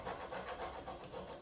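A transfer is rubbed by hand onto a painted glass table top, giving a close, steady, scratchy rubbing texture with a loose back-and-forth rhythm and no talk over it.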